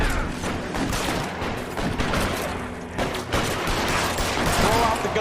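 Gunfire from the detective game L.A. Noire crackles in dense, overlapping shots under a busy game mix, with a person's voice speaking over the action.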